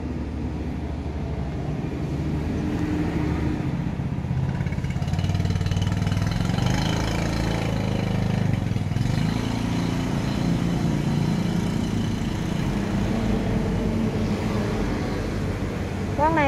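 A Kubota L2602 tractor's four-cylinder engine idles at a steady, even drone, moderately loud and continuous, with faint talk at times.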